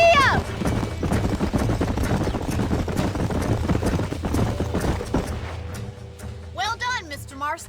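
Horse hooves gallop in a steady, rapid clip-clop in the Western video game Red Dead Redemption, with a busy drumming rhythm and a whinny-like call near the end.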